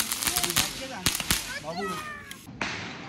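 Diwali firecrackers burst outdoors in a string of sharp, irregular cracks and pops, some louder and nearer than others, while people talk and call out in the background.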